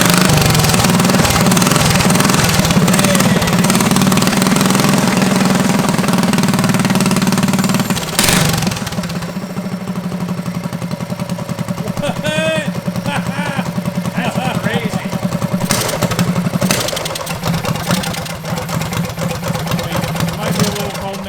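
A turbo diesel racing go-kart engine that had sat unused for years runs with a rough, knocking, chugging idle, loud and close, dipping briefly midway before carrying on, while people talk near it.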